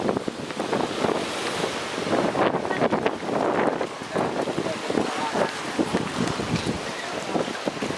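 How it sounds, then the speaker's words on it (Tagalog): Rough, continuous wash of wind and crashing sea waves, loud and steady, with buffeting gusts on the microphone throughout. "Ang lakas ng alon."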